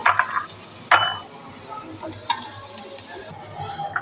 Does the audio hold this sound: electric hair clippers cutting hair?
no